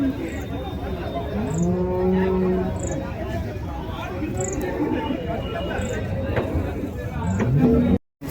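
Jallikattu bulls tethered at the Orappam cattle market let out several long, loud moos, one after another, over steady crowd chatter and murmuring voices.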